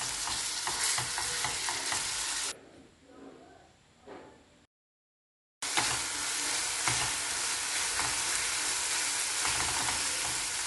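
Minced meat frying in a pan as a spoon breaks it up: a loud, dense sizzle with stirring scrapes, a quieter stretch, a brief gap of silence, then the full close sizzle again.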